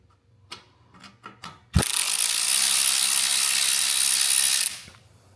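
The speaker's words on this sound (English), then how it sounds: "Then I just have my trusty side ratchet. Take these off in a crisscross pattern." Close, rapid ratcheting of a hand ratchet loosening the valve cover bolts on a Troy Bilt Bronco, a few short clicking bursts followed by a long steady whirring run that stops abruptly.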